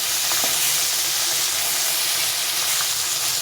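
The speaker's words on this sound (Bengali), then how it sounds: "এখন আমি এগুলোকে সবগুলোকে উল্টে দিয়ে ভেজে নেব।" Fish steadily sizzle and crackle in hot oil in a pan, with some faint scraping as the pieces are turned. Dense, even frying noise continues throughout, close and fairly loud, with no voices.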